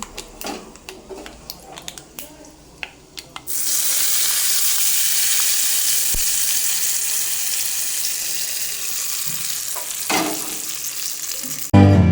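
After a few soft kitchen clatters, a loud, steady sizzle of tempering spices hitting hot oil erupts and keeps crackling until a sudden stop.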